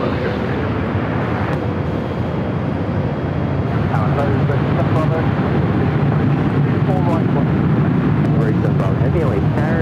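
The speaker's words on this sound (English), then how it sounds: "I'll see the fog as this A350 rolls down to 24 left." An Airbus A350 rolls down toward runway 24 left at Los Angeles airport on a foggy afternoon, a steady loud engine roar with broadband rumble throughout, with a voice talking over it.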